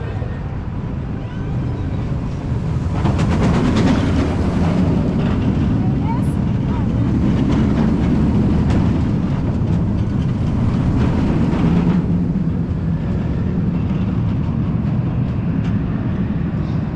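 A loud, continuous rumble of a Goudurix roller coaster train at Parc Astérix rushing along its track, with a roaring, rattling wash that stays strong for the whole stretch.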